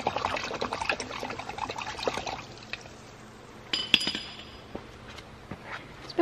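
Zinc plating solution of vinegar is stirred, swishing and sloshing in a container with light clinks against glass, busier at first and then settling into faint occasional trickles and taps.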